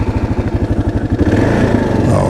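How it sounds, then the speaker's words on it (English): A Kawasaki KLR 650 with a single-cylinder 650cc engine thumps along in a low, rapid pulsing beat close by, then the note rises and smooths out as it pulls away on the highway. "Let's take it on the highway and see what that one-cylinder 650cc motor has to say."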